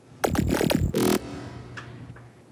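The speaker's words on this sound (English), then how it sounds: "this little pitch bend growl just comes in very small parts in the first drop" A massive Serum-style synth patch plays a gritty pitch-bending growl lead in a trap track, in a few short wobbling bursts followed by a brief buzzy stab. The tail fades into quieter, sparse sounds, with no talking.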